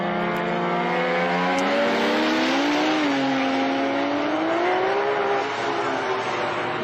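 A rear-wheel-drive race car at a time attack event accelerates hard through its gears, the engine note climbing loudly and continuously as it passes, with a faint tire squeal in the background.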